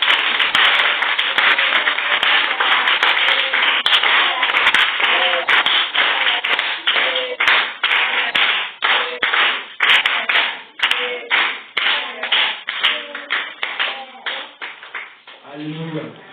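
Church congregation clapping and cheering in praise of the Holy Spirit, a dense burst that thins into rhythmic, distinct claps toward the end, loud and close.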